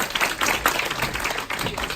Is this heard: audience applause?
yes